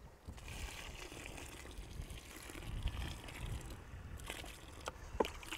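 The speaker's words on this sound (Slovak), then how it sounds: "Túto vodu využijem, že to teda nalijem." Water is poured onto planting substrate for a fruit tree, a soft, continuous splashing and trickling with a few small knocks near the end, no talking.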